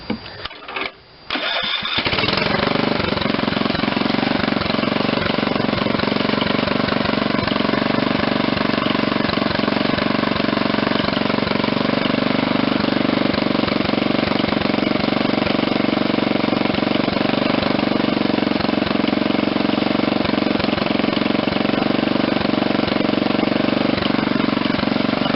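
An old Ariens rototiller with a Tecumseh HH70 engine catches after a few quick pulls, then runs and idles steadily and loudly with an even rumble for over twenty seconds.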